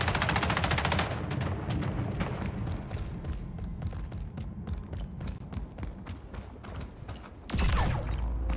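Rapid automatic gunfire while shooting enemies in the video game Splitgate, dense bursts of rattling shots that thin into scattered single cracks, then a louder burst near the end.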